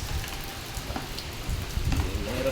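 Rain falling steadily outdoors, a soft crackling patter of drops on surfaces at low, even loudness with a few closer drips, and no voices.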